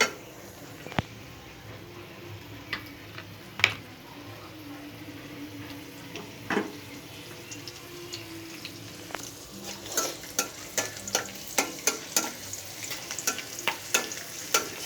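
Cardamom and spices stirred in hot mustard oil in a pan, a soft sizzle underneath scattered metallic scrapes and taps of a spoon against the pan that grow quicker and more frequent toward the end.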